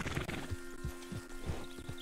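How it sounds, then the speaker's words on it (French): Horse hooves clip-clop at a steady walking pace during a shared ride in a video game, a soft, regular clopping heard on its own under a faint steady background hum. "On fait des belles balades à cheval à deux."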